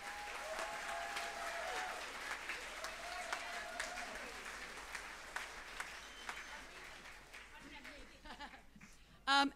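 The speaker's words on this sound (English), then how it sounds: "Please, round of applause." End-of-year summer school concert audience clapping for the school orchestra, sustained dense applause across the hall, with a person speaking over it and a brief loud bump at the end.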